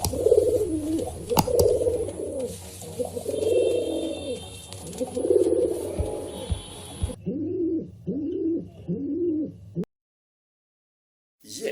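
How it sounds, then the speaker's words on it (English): A pigeon coos in a steady run of repeated low phrases, fairly close and clear, over a faint background hum before the calls stop and the clip falls silent. "Yes, that's a pigeon."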